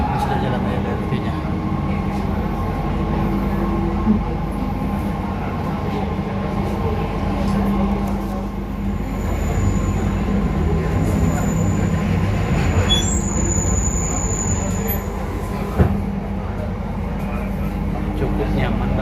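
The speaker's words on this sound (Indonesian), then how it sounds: "Sudah jalan LRT-nya." Palembang LRT train running along its track from inside a carriage, with a steady low rumble and rolling hum, a faint high squeal, and occasional clicks and bumps throughout.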